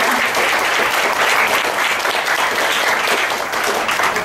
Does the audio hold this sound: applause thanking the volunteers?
yes